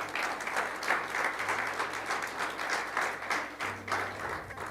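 A church congregation claps steadily at a service, a dense, even wash of hands that holds at a fairly loud level throughout, with a low hum underneath.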